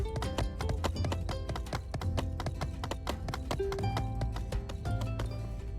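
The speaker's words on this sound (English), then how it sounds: "We will actually get off the horse to talk to Penn." Horse hooves clip-clopping in the video game My Time at Sandrock: a steady, rhythmic patter of hoofbeats running continuously alongside background game music.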